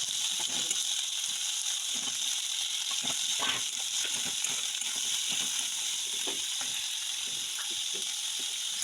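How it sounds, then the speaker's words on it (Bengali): Carrots and beans stir-frying in hot oil, a steady bright sizzle running throughout with scattered clicks and scrapes of stirring, close and alone with no voices. "এখন গাজরটা তেলের মধ্যে দিয়ে এবার বিনসগুলো দিয়ে আমি একটু নাড়াচাড়া করে দিয়েছিলাম"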